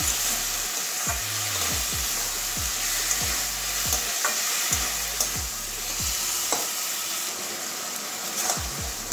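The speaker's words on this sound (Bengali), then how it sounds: "এবারে মাশরুমটা একটু 2-3 মিনিট ভালো করে কষিয়ে নেব মশলার সঙ্গে।" Soaked mushrooms are stir-fried with spices in a pan, a continuous loud sizzle underscored by evenly repeated scraping strokes of a spatula, with no voices present.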